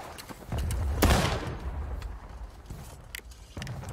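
Musket volley fire in the Civil War game War of Rights, a loud crackling burst of several shots around one second followed by scattered single reports and distant pops fading through the rest.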